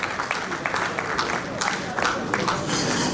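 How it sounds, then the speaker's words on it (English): Audience applause at a builders' conference and annual general meeting in Lagos, a steady spread of clapping from the hall with some voices mixed in, moderately loud throughout. "A round of applause for him"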